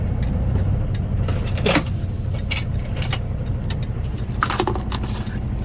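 Toyota Tundra truck keys jangle and clink in a few short bursts over a constant low engine rumble inside a semi truck cab, close and fairly loud.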